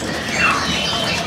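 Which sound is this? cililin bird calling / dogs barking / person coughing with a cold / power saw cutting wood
cililin bird calling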